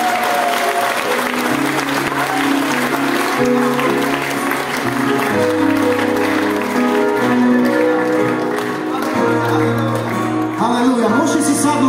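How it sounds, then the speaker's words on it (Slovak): Audience applause at a Christian worship event, dense clapping sustained throughout over loud music with steady sustained tones. "Môžeme zatleskať týmto ľuďom."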